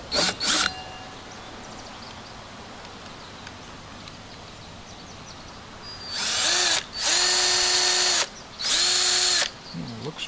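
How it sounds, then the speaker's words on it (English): A handheld power drill boring a hole, heard in three long, loud whirring bursts of the motor near the end, after a stretch of quiet outdoor background with a brief burst at the start. "Threw the drill right up in the air."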